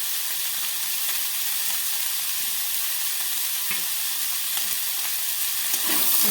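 Freshwater snails frying with salt and turmeric in a pan, stirred steadily, give a loud, continuous close sizzle with faint scraping of the stirring throughout, no voices.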